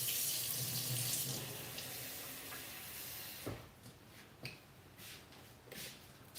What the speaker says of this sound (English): Then I'm gonna fill this with some water and wash it out.